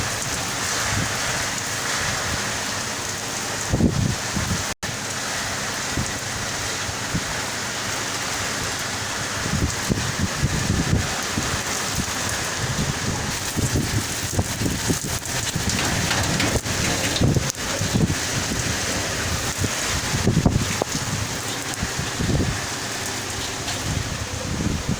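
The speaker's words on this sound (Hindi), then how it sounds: "दोस्तों बाहर बहुत ही तूफ़ानी बारिश हो रही है" Heavy stormy rain pours down outdoors, a loud continuous hiss with sharp drops and gusty bursts hitting nearby surfaces throughout, and no voices heard.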